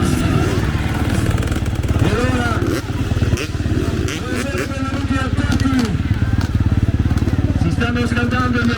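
Freestyle motocross motorcycles roar loudly and continuously at an outdoor show, with engines revving and rising in pitch over a crackling rumble, and a voice talks over the noise.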